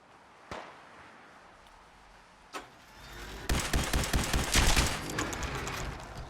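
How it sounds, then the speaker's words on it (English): Distant gunfire in Fallout 4: a couple of isolated faint shots, then a rapid flurry of cracking reports swelling and fading, heard alone without talk. "Someone's shooting off in the distance."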